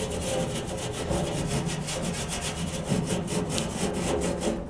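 A cast steel grill being rubbed over by hand, a steady continuous scraping and rasping that carries on alone and evenly for the whole stretch, close and fairly loud.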